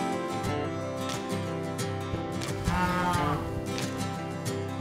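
Cattle on a ranch moo repeatedly, long low calls overlapping one another, fairly close and prominent with no talk.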